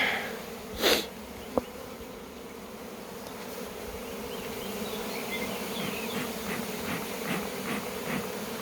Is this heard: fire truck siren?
no